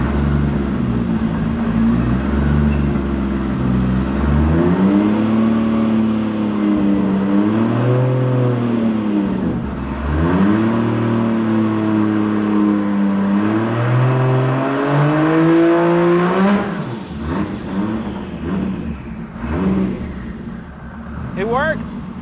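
A 1000HP 2JZ engine in a BMW with a ZF gearbox and twin-disk clutch accelerates in fifth gear, its loud exhaust drone rising and dipping in repeated waves of revving, with a voice speaking briefly near the end.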